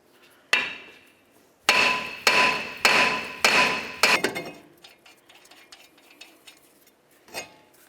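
A hammer bangs a brake rotor on a Toyota Camry hub: one sharp strike, then four loud ringing metallic blows in quick succession, followed by faint clinks and a last light tap.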